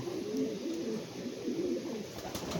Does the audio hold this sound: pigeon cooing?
yes